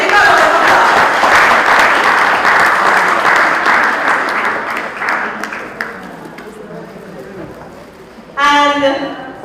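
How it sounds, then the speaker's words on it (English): A graduation ceremony audience at a senior secondary school gives a round of applause, a dense, loud wash of many hands clapping that fades after several seconds before a voice speaks. "Let's take a round of applause."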